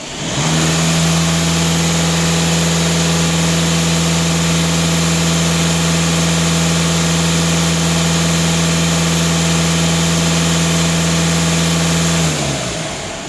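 A Volkswagen TDI diesel engine idles steadily, a loud, even low hum with a strong rumbling tone that holds for about twelve seconds and then cuts off, with no voices over it.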